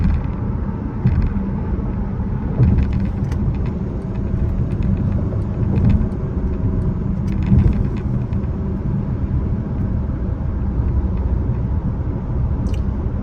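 A car travels along a road in New Jersey, its steady low engine and tyre rumble running continuously and loud, with faint small knocks and clicks on top.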